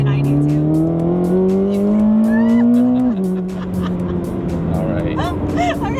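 A 2026 Corvette ZR1 accelerates hard from inside the cabin, its engine note climbing steadily, dropping sharply at a gear change, then rising again, with people talking over it.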